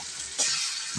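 Ground masala with onion and tomato fries in hot oil, giving a close, steady hiss that swells briefly, with a light stirring scrape near the end.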